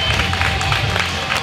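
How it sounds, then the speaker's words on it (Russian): Audience at a boxing event applauds as a fighter is introduced, a dense, steady wash of clapping and crowd noise filling the hall, loud and continuous throughout. "Аплодисменты Алексею Игоревичу."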